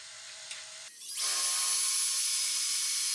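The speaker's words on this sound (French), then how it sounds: "Et là on vient percer en fait le tourillon." A drill bit bores into a wooden dowel set in an old valet stand under restoration, the motor whirring up to a steady, fairly loud grinding drone.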